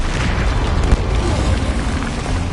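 A Bombarda blast spell from Hogwarts Legacy erupts as a loud, sustained booming roar, dense and rumbling throughout with no clear break.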